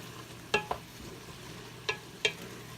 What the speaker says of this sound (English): Now we stir these things in.